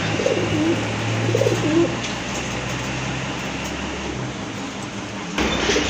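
Large pigeons coo in low, rolling phrases at a pigeon market, close and clear over a steady hum of background noise, with the cooing fading after the first couple of seconds.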